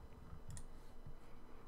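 Soft computer mouse clicks while dragging blocks in a grid editor, a few faint, sparse ticks close by over a quiet background.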